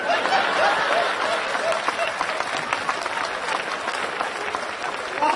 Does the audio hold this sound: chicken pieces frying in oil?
no